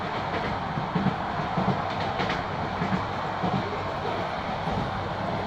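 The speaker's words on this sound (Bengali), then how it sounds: "এখন ট্রেনের ভিতরে আছি।" Interior of a moving train headed to Cox's Bazar station, with a steady low rumble, broadband rolling noise and faint rhythmic clicks of wheels on rail joints throughout.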